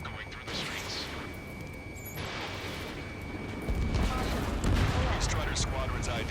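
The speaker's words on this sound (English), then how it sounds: "Gunfire and the roar of jets echoing through the streets." Battle sounds from the video game Ace Combat 7, with dense gunfire and rumbling blasts over a steady roar that swells louder midway, alongside talk.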